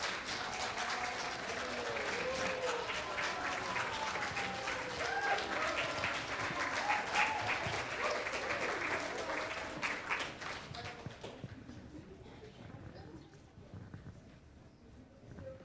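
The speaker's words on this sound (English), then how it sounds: "let's give them all a big round of applause" A standing audience applauds the organizers and employees at a Filipino American History Month celebration, a long, full round of clapping with voices mingled in, tapering off into scattered claps and murmurs near the end.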